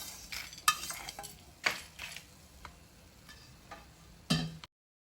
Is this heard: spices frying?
yes